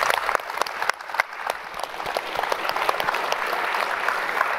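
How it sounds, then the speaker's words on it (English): Sustained applause from a conference audience for keynote speakers at a closing session, dense steady clapping filling the room from start to finish with no talk over it. "Another round of applause for our awesome keynote speakers."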